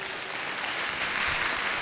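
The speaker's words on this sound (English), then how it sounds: "Quick round of applause for them," Audience at a televised vocal competition show at the Cosmopolitan venue claps in a dense, steady wash, fairly loud and unbroken, without talk over it.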